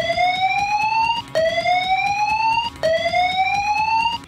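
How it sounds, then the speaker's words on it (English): Building evacuation fire alarm at a foundry: a loud rising whoop tone repeating three times in steady cycles, each sweep climbing before resetting, heard alone without talk. "In the case of a fire or other emergency that requires evacuating the building, you will hear this alarm."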